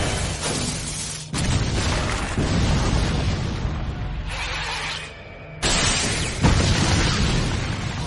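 Loud cartoonish explosion effects in an anime parody of Jujutsu Kaisen: heavy booming bursts with rumbling, crackling tails, cut off abruptly and restarting several times across the stretch.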